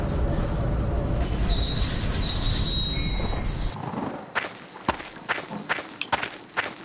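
Train from the game Choo Choo Charles rolling along, a loud steady rumble with high wheel squeal that cuts off, followed by a series of sharp footstep-like clacks.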